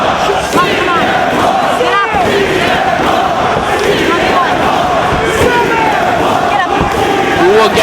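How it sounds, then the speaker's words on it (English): A wrestling crowd at a Ring of Honor anniversary show roars and chants continuously, a dense, steady wall of cheering and rallying voices with occasional louder surges. "The crowd trying to rally CM Punk starting to feed off that energy."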